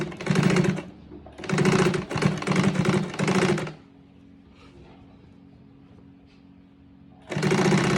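Sewing machine stitching an elastic waistband onto joggers, loud and close, running in rapid rattling bursts that pause briefly, go quiet for several seconds, then restart.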